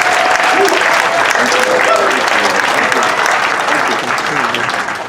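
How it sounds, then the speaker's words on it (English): Loud, dense audience applause welcoming California Attorney General Rob Bonta at a community weekend event, steady throughout and tapering slightly at the end, with a few voices mixed into the crowd. "Let's give him a big round of applause, ladies and gentlemen."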